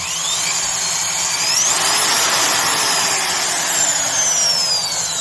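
A Swiss-made Bosch B 6050 3/8-inch general purpose drill, rated 2500 RPM and 4 amps, running continuously close by with a loud, even motor whine and a rising and falling pitch.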